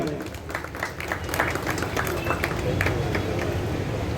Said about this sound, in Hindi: तालियां हो जाओ।